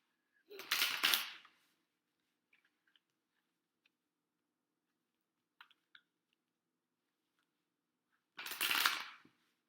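A tarot deck is shuffled in two loud bursts of riffling cards a few seconds apart, with faint taps and clicks in the quiet between.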